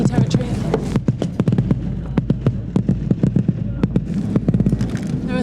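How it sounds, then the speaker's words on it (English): Mortar and airstrike fire in combat near Houthi territory in Yemen, heard as a dense run of sharp, loud blasts and cracks, several close together, over a constant rumbling background. "You can just feel the mortars zipping right over our heads into Houthi territory."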